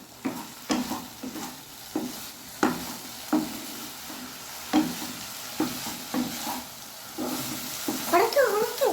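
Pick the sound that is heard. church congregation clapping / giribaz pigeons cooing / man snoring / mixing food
mixing food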